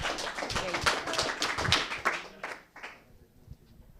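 Scattered, uneven hand clapping from a conference audience welcoming a presenter to the stage, loud at first and thinning out over a few seconds until only a few claps remain.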